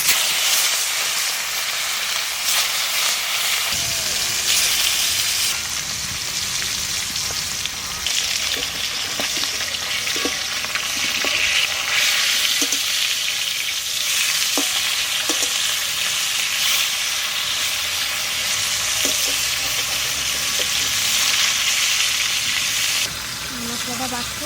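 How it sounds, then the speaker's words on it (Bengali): Fish frying in hot mustard oil in a village kitchen, a loud, continuous crackling sizzle that carries steadily throughout with faint occasional clicks underneath. "মাছটা ছাড়ি তেলে।"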